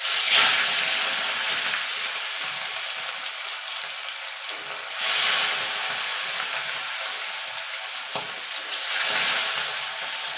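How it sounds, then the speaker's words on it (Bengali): Rohu fish pieces frying in hot oil, a steady loud broadband sizzle that swells at about 0.3 s, 5 s and 9 s as more pieces go into the pan, with no talking. "দেখুন বন্ধুরা তেলগুলো গরম হয়ে গেছে। এবার মাছগুলো আমি এক এক করে ছেড়ে দেবো।"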